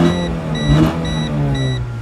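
A 1996 Volkswagen Jetta with a 2.0 engine idles up close, a loud steady hum with a whining tonal drone and a brief swell of revving partway through, no voices.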